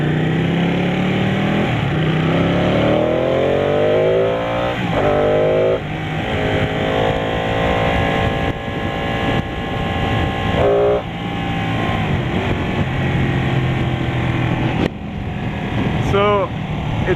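A 2015 Ducati 899 Panigale engine on a test ride, loud and close, with revs climbing and falling through the gears and a steady roar of wind and road noise, while a rider talks over it intermittently.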